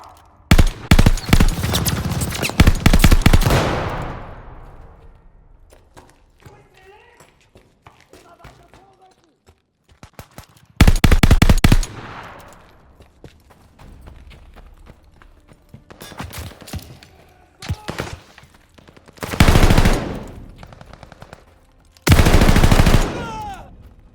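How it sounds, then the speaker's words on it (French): Machine guns fire on a building in the Call of Duty Vanguard video game, with loud repeated bursts of automatic fire and quieter stretches between them where voices speak. "Mitraillez ce bâtiment, de haut en bas. Je ne veux pas qu'elle puisse se cacher."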